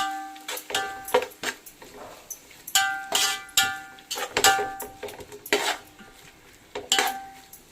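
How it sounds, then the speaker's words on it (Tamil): Metal spoon stirring ginger garlic paste as it fries in a pan for chicken biryani, giving repeated close scraping clinks against the pan in an uneven rhythm, with a faint sizzle underneath and no talk. "இஞ்சி பூண்டு பேஸ்ட் போட்டுட்டு திரும்பி நல்லா வதக்குங்க"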